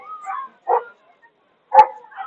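A dog gives a few short, sharp barks and yips at close range, with quiet gaps between the bursts and one louder bark near the end.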